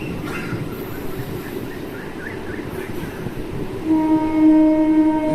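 Repalle to Tenali passenger train on a single line taking a long curve, a steady close rumble of wheels with a sustained tonal squeal from the rails building near the end.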